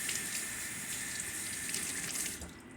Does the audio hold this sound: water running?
yes